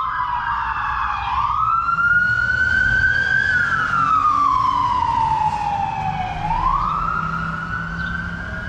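Police car sirens wail loud and close as they race down an expressway, the pitch sweeping up and down in long slow rises and falls over a low road rumble.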